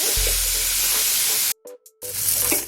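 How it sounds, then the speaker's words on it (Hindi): Kamal kakdi (lotus stem) slices frying in oil in a kadhai over a medium flame give a steady, close sizzle, cut off by a brief silent dropout before the hiss returns. "ये जो कमल ककड़ी है हम इसे अच्छे से फ्राई कर लेंगे"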